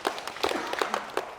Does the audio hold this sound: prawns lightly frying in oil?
no